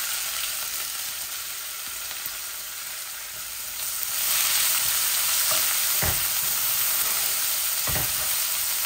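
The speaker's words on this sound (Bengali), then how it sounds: "2-3টা তেজপাতাও দিয়ে দিচ্ছি টুকরা। আমি একটা মিডিয়াম সাইজের অনিয়নও দিচ্ছি।" Bay leaves and a medium onion sizzle steadily in hot oil in a pan, a constant frying hiss that swells a little louder midway, with a few soft clicks from stirring and no one speaking.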